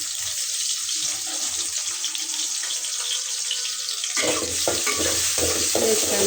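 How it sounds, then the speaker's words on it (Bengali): Prawns fry in hot oil with chopped onion for a Bengali prawn dish, giving a steady close sizzle that turns to clattering stirring and scraping in the pan for the last couple of seconds. "পেঁয়াজের সাথে আমি চিংড়ি মাছটা ভেজে নিব"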